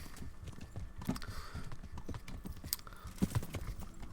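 Horse hooves clip-clopping in the video game Kingdom Come: Deliverance, a steady rhythmic run of close, distinct hoof strikes on the ground with a few sharper accents, no talk.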